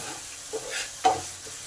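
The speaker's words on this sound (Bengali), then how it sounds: "কন্টিনিউ নেড়ে যেতে হবে, না নাড়লে ধরে যাবে, ধরে গেলে মশলাটা তেতো হয়ে যাবে।" Chicken curry masala for a potato chicken jhol being stirred as it fries in oil, a few soft scraping strokes over a faint steady sizzle, close and quiet, with no talking.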